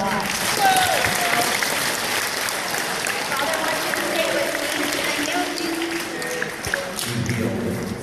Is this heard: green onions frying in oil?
no